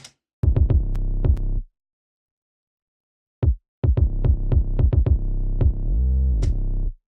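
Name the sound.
bass lines of a beat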